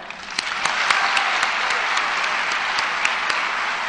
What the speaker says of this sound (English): Please join me in giving a round of applause to the jazz quartet that performed as you entered the theater